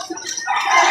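Chickens at a livestock auction market in Padre Garcia, including a large six-month-old rooster, give brief clucking calls rising into a louder, sustained bird noise toward the end of the second.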